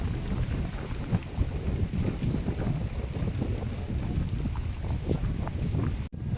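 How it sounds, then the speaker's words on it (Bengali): Steady rain falls on the bank of the Meghna river, a constant dense hiss with gusty wind-like rumble, unbroken for the whole stretch and with no voices. "এই যে সুন্দর বৃষ্টি হচ্ছে, আর নদীর পাড়ে বসে আমরা বৃষ্টি দেখি।"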